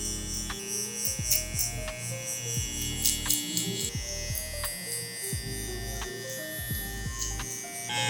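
Electric hair clippers fitted with a 1.5 guard buzz steadily while cutting hair during a fade, a close, continuous motor drone broken by brief ticks and shifts in pitch as the blade moves through the hair.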